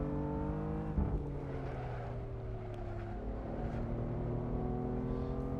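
A BMW M4 race car in the Assetto Corsa sim racing game, driven at Silverstone, gives a continuous engine drone whose pitch shifts up and down through gear changes. The sound is steady and moderately quiet with no talk.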